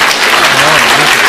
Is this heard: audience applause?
yes